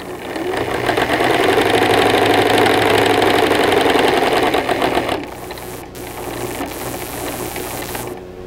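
A sewing machine stitches along an existing seam line, with a loud, steady close mechanical whir that runs continuously, then shifts to a lighter, slightly quieter hum after a brief pause near the end.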